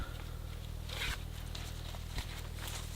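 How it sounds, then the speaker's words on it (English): The zipper pocket of an Orange Mud running pack is pulled open, a fast rasping zip close by over a steady low hum, with no talking. "and then you have that zipper pocket"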